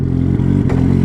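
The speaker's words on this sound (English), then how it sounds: "this is my 1999 Suzuki Hayabusa with a RCC" A 1999 Suzuki Hayabusa fitted with an RCC Turbos Stage 1 turbo kit idles close by, a steady low engine rumble with a few brief clattering blips in the middle.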